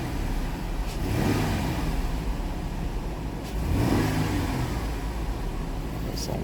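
A Dodge 3.6 engine being checked for a cylinder 6 misfire takes two sharp snap-throttle revs, each surging up from idle and falling back, loud and close with no talking.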